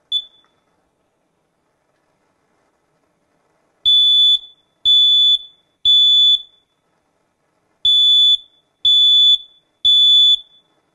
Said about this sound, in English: I'm going to simulate unattended cooking by pressing the smoke detector